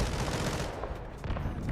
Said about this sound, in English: Shots coming from somewhere.